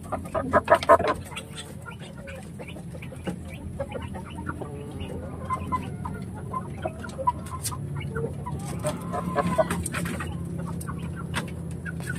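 Asil chickens cluck and call in a yard before feeding, a steady mix of overlapping short clucks and squawks, moderately close, with a low background hum throughout.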